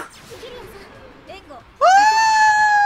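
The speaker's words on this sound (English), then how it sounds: "Oh my god, that scream." A scream in the video game Yakuza 0, a loud sustained high-pitched wail that bursts in suddenly and holds steady after a stretch of softer background game sound.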